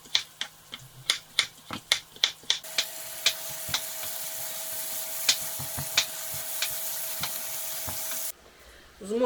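Chopping taps ring out in a quick series, then a steady sizzle of onion frying in a pan until golden continues with occasional clicks before cutting off.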